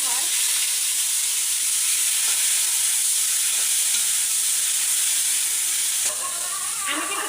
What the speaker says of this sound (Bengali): এখন হচ্ছে পটলগুলো ভেজে নেব